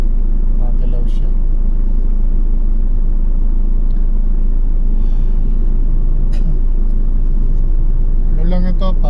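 A car's interior rumble while driving, a steady heavy low drone with constant vibration throughout, and a voice briefly heard near the end.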